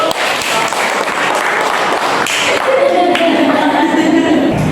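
Classroom of children applauding after a poetry-writing lesson, a dense steady patter of many small hands with voices mixed in, and a sustained voice-like tone rising in the second half.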